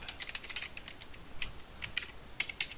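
Quick, light keystrokes on a computer keyboard while entering a formula in an Excel spreadsheet, arriving in short irregular bursts with small pauses between them, close and fairly quiet.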